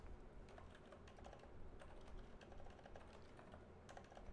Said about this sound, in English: I'm typing out the raid message.